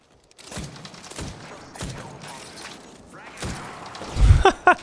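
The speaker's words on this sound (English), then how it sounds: "That mid-air grenade throw, I love it. It worked." Grenade blast and chaotic firefight in the Apex Legends battle royale game, a couple of heavy booms amid gunfire and clatter, with voices talking over the action.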